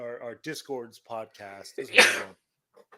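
A single sharp sneeze bursts out loudly right after a person finishes speaking, close and brief, followed by quiet.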